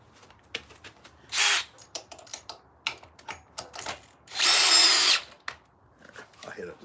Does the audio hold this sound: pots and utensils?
no